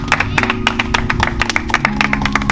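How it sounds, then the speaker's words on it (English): A small group claps for a guest from the US during a gathering on Jamaica's north coast in Ocho Rios, giving sharp, distinct claps over steady background music. "A round of applause, please."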